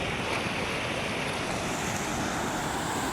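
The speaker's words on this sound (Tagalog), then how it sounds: "ayan lalaki ng alon" Big ocean waves breaking on a shore, a loud continuous roar of surf mixed with heavy wind buffeting the microphone, filling the whole stretch without pause.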